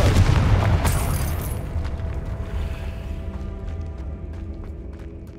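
Confringo blasting spell in Hogwarts Legacy, a loud booming explosion at the start that rumbles and slowly decays, followed by scattered small crackles and debris clatter as the blast fades.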